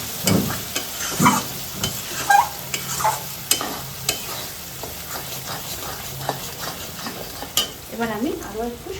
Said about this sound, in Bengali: এবার একটু আমি মশলাটা নাড়িয়ে দিয়ে দিলাম।